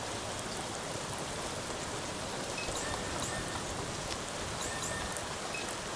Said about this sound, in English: We were standing out in a rainy mall parking lot.